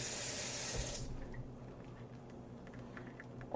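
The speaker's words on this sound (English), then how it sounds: "I guess I did say I wanted to add more water." Tap water gushing into a container while mixing acid dye solution, a strong close rush for about a second that stops, followed by quiet clicks and light handling sounds.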